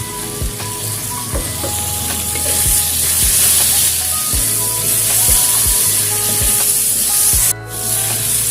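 Tomato drops into a pan of frying jengkol with spices, giving a loud continuous sizzle and hiss while a spatula knocks and scrapes in a regular rhythm.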